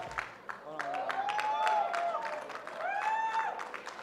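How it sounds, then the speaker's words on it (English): Guests applaud at a wedding reception, a steady patter of clapping with cheering voices mixed in, sustained for several seconds at moderate distance. "Give them a big round of applause, ladies and gentlemen."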